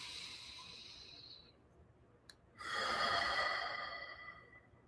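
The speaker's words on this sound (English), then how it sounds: "Breathe in." A person draws a deep breath, a soft airy exhale tapering off, a brief click, then a longer, louder inhale hissing close to the microphone with no talk.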